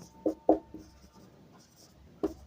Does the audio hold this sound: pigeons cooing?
no